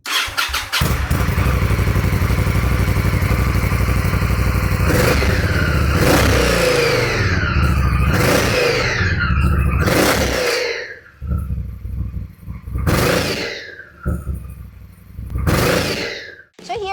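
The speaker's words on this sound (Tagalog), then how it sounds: "So, this one is still on stock pipes. Dual exhaust." A 2023 Indian Scout Bobber on its stock dual exhaust starts with a crank, settles into a steady loud idle, then gives several sharp throttle blips that rise and fall close by.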